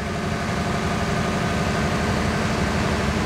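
A diesel truck engine with about 235,000 miles, raised to 1500 rpm during a blow-by test, gives a steady, loud low rumble with a constant vibrating hum from start to end and no voices.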